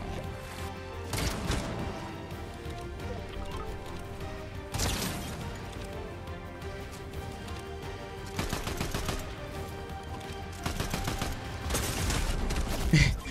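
Pump shotgun fire in a video game: several sharp, loud blasts spaced seconds apart over continuous game noise and clatter.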